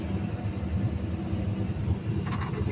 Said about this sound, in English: If you can hear that, the engine is running now